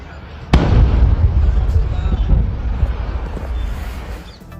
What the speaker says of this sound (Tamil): சாத்தூர் அருகே பட்டா சாலையில் பயங்கர வெடி விபத்தானது ஏற்பட்டிருக்கிறது.